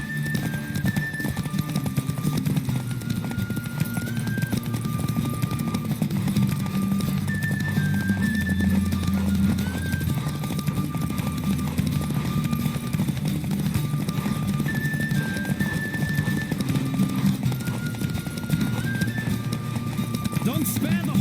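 Horse galloping in The Witcher 3 game, a steady rapid clip-clop of hooves with occasional neighs, under game music and a talking voice throughout.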